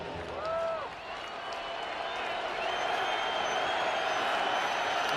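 A packed college football stadium roars for South Carolina vs. Kentucky, a broad sustained crowd noise that swells steadily, with a brief voice early on.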